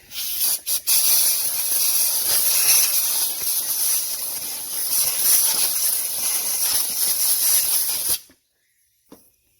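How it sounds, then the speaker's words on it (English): Compressed air blasts dirt and debris from around an electrical connector in the engine bay of a BMW 335d E90 diesel, a loud continuous hiss lasting about eight seconds before cutting off abruptly. "you want to take some compressed air and blow all the dirt and debris out from around the connector"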